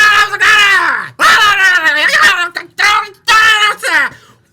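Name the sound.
person screaming in imitation of a goblin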